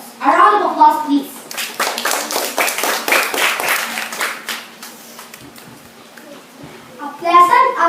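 Applause for a school class debate speaker, with children's voices as hands clap in a dense, sustained round that swells and fades over several seconds.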